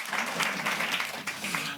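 Clapping from a QED conference audience continues at an even, moderate level, a dense wash of hands with slight voice traces underneath.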